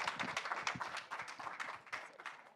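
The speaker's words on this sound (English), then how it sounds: "I think we can give ourselves a round of applause." An audience claps in a brief round of applause at a youth pavilion event during the COP28 climate conference, dense and lively.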